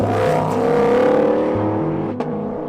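A Ford Mustang Shelby GT500 engine roars loud and close in a steady, harmonic-rich drone that rises and falls in pitch as it revs, with a short sharp click near the end and no talking.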